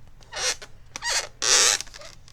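Marker squeaks while drawing on a twisted latex balloon, three bursts of high creaky squeaking with short pauses between, close and fairly loud with no talking.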